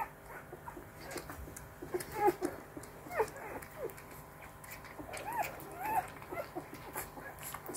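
A small wolf puppy being bottle-fed whimpers and squeaks in short, high, faint bursts, with soft snuffling and handling noises close by.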